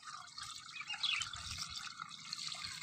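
A pesticide mixture for treating caterpillars on rice is poured into a sprayer tank, producing a steady close liquid splashing and trickling for a few seconds with no talk.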